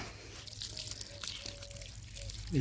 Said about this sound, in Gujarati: 1 લીટર જેવું આ રીતે પાણી આપી દેવાનું.